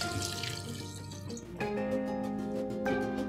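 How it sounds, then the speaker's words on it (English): Water poured into a pan of bouillabaisse, a steady splashing stream that grows fuller and louder about halfway through, close by with a ringing tone. "Then we're going to add all of our water."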